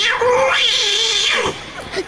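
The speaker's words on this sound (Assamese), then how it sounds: "মেকুৰী পোৱালিতে গীত গাব" A kitten caterwauls in long, wavering, song-like yowls that rise and fall, close and loud, with a couple of shorter cries near the end.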